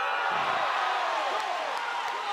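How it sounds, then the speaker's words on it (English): A crowd at a table tennis match roaring in a sustained, dense wash of cheering that fills the whole moment, with a commentator's voice faintly underneath. "What a roar for the crowd"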